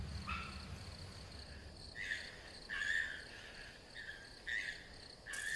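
Cicadas calling outdoors in Korea near a palace, a steady high buzzing chorus that swells in several pulsing bursts over a constant background drone, moderately distant and without speech.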